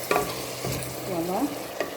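Spinach, chicken and carrot sauce simmering in a pot, a steady soft sizzling bubble with a faint tonal whistle and a light scrape of stirring near the end, close and fairly quiet.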